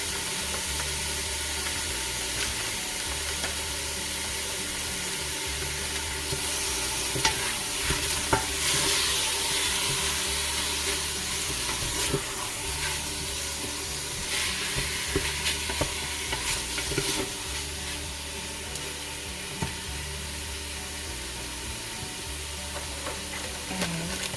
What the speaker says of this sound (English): Saute your meat until it turns slightly brown.